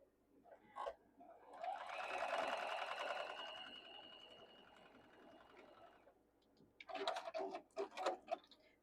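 Domestic sewing machine stitching a quarter-inch quilting seam with backstitching, a steady mechanical whirring run of about four seconds followed by short, stuttering bursts as the stitching starts and stops; fairly quiet and close.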